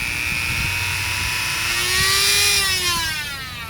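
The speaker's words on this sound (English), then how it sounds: "I have my trusty rotary tool, which, joy, works. And it has multiple speeds." Handheld rotary tool fitted with a blade in an outdoor workshop, a close steady whine whose pitch rises then falls as the speed changes, with no talking.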